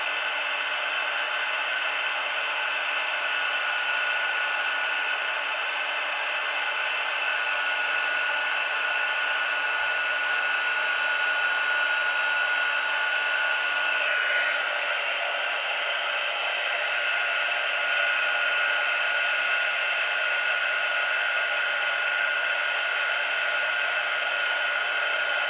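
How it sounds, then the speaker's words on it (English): An electric heat tool blows a steady, loud whoosh of hot air, melting embossing powder on a stamped card, continuous and unbroken from start to finish with no talk over it. "I'm just heating up the embossing powder, and as you're heating it, it will change from being powdery to nice and shiny."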